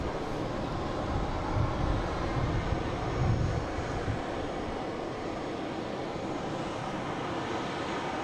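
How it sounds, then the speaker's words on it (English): American Airlines Embraer E175 jet arriving at Boston Logan from JFK, a steady broadband engine roar at moderate distance, swelling slightly midway and holding level throughout with no talk. "Next coming in is American Flight 43272, coming in from JFK in E175."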